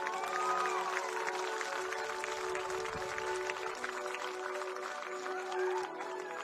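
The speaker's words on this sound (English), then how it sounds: "Let's give these two teams a round of applause for their great success." A crowd in the stands applauds the two teams before a 3A state championship softball game, a sustained mix of clapping and cheering that carries far across an open field, with the echoing PA system droning steadily underneath.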